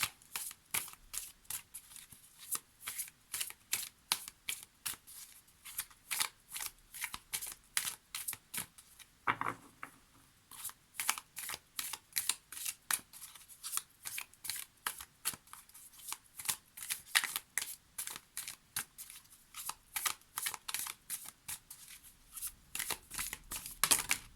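Oracle cards are shuffled close up in a long run of rapid, papery riffling snaps, with a brief pause near the middle before the steady shuffling resumes.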